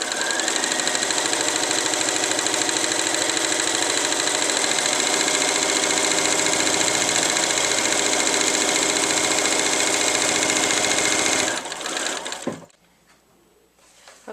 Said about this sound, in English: I'm going to sew my first seam right here. This is done at 1/4 inch.